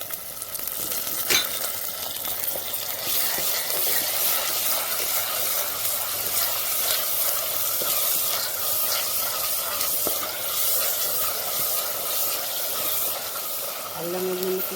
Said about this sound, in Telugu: అల్లం వెల్లుల్లి పేస్ట్ అలా వేగుతుంది కదా